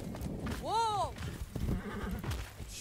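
A horse in the video game Far Cry 6 lets out one loud, rising-and-falling neigh while hoofbeats clop steadily beneath, with game ambience and a voice talking around it.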